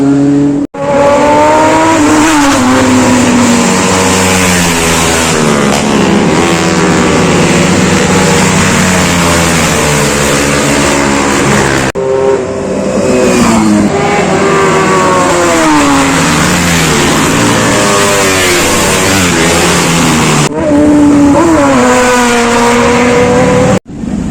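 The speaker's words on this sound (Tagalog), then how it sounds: "Watch muna tayo ng big bikes at mga racing na modified na motor." Modified racing motorcycles and big bikes pass one after another at a roadside racing area in Marilaque, engines revving loud and close with rising and falling pitch sweeps, nearly continuous for the whole stretch.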